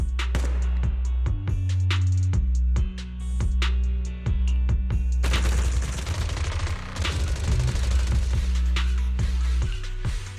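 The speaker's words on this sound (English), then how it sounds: "Gunfire? This pattern. Suppressive marching fire." Rapid bursts of gunfire in Zenless Zone Zero crackle nonstop, suppressive marching fire with sharp close shots over a low rumbling drone and a denser barrage building in the second half.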